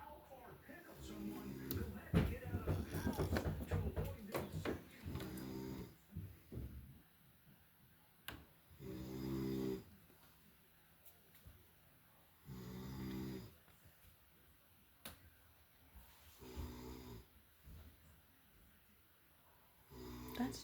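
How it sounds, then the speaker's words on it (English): A sleeping man snores with a gentle, repeated rhythm: soft drawn breaths in recurring bursts, with quiet pauses between them, heard close up in a quiet room. "That's gentle snoring."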